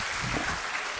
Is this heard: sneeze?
no